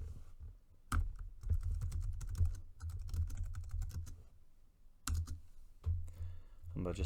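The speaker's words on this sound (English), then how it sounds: "And we'll just type that into the calculator." Numbers keyed into a calculator: bursts of quick, close button clicks separated by brief pauses, with a low background hum.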